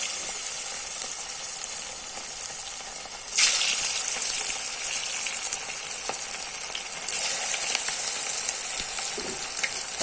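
Chicken kabab pieces fry in hot oil in a pan with a loud, steady, close sizzle that surges sharply as more pieces drop in, then crackles on continuously.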